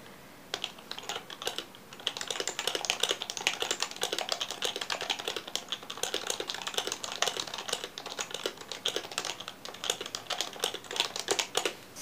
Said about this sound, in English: start off with the HappyHacking Pro 2 keyboard,